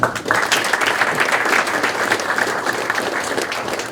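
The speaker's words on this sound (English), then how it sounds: "I do want to give them another round of applause." Audience applause fills the room at a sports league awards banquet, a sustained, dense round of clapping from a large crowd, loud and even from start to finish with a few voices underneath.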